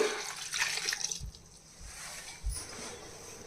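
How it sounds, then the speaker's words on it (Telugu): A glass of water poured over three kilograms of crushed jaggery makes a brief, close splashing rush at the start, then fades to a quiet background with a few soft dull knocks. "ఈ మూడు కేజీల బెల్లంలోని ఇలా కొట్టేసి వేసుకున్న తర్వాత ఒక గ్లాసుడు వాటర్ వేయాలి"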